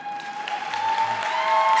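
Graduation audience clapping after a valedictory speech, a steady burst of applause that builds slightly and holds, with a faint tonal hum running underneath.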